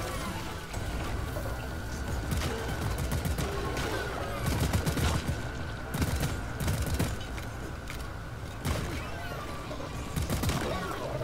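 Automated turret gunfire in the Deep Rock Galactic video game rattles out in repeated bursts over a steady electronic hum, with scattered impacts and mechanical clatter throughout at moderate volume.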